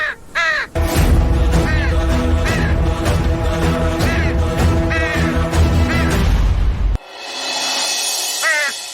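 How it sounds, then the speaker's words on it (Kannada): A crow caws loudly again and again in harsh, repeated calls over a dense, booming background score in a Kannada TV drama scene. After a sudden cut, the backing grows quieter and one more caw follows. "ಶನಿ ಮಹಾತ್ಮನ್ ಹೆಸರು ಹೇಳ್ತಿದ್ದಂಗೆ ಈಟೊತ್ನಾಗ ಕಾಗೆ ಕೂಗ್ತೈತೆ."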